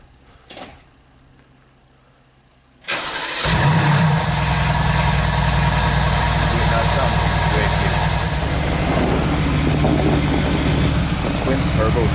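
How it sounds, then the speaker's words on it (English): A Mercedes AMG GT with a twin turbo V8 fires up after a quiet moment and settles into a loud, deep, steady idle that runs close by, with people talking over it. "Twin turbo V8."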